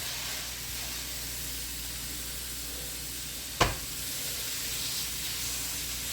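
Salted and peppered burger patties, one from Fresh Time, sizzle and hiss steadily on a hot griddle, with a single sharp crackling burst partway through as they are pressed down; no one speaks.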